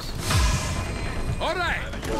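Weapon reload in the Far Cry 3 video game: a quick series of metallic clicks and mechanical clacks, close and clear, with a voice briefly heard over it.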